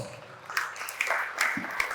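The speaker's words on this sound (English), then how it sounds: "I think that deserves a round of applause" An audience at a public lecture gives a round of applause, a dense patter of clapping with a few sharper claps standing out, moderately loud and heard from inside the hall.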